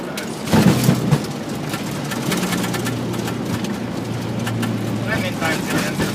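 An AirBaltic Boeing 737 lands at Rome Fiumicino, giving a steady broadband roar of rushing air and engine noise with a few heavier thumps early on, close and continuous throughout.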